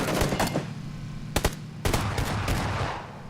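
Automatic gunfire crackles in a PUBG Battlegrounds squad match: a burst at the start, a sharp double shot in the middle, then a longer volley of rapid rounds, loud and close over a steady game background.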